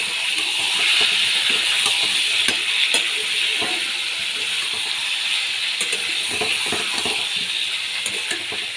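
Potatoes sizzle and sauté in a pan with chana masala for an aloo dum, a steady frying hiss with scattered soft scraping clicks, close and continuous, with no talking.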